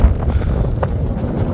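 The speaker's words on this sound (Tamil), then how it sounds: "நல்ல காற்று மக்களே, உங்களுக்கு தெரியுதா?" Strong wind on the Meesapulimala mountain trek buffets the microphone with a loud, rumbling low roar that gusts steadily throughout.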